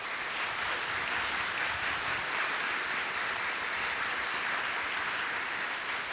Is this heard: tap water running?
no